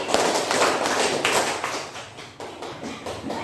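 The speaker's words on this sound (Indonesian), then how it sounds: "Tepuk 2 kali 2 kali." A classroom group claps together in a ragged run of repeated claps, loosely grouped and not perfectly synchronized, fairly loud and close throughout.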